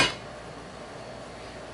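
Metal lid set onto a pot of smothered pork chops in onion gravy, a single sharp clink at the start fading into a quiet simmering hiss.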